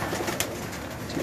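A Teddy Patti pigeon, a home-bred bird in a Lahore loft, gives a short low coo against a steady hiss of background noise, with no talking.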